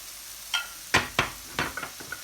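Quartered tomatoes brushed with marinade oil on a hot plancha griddle, heard as a few sharp scraping and tapping strikes over a soft, steady sizzle.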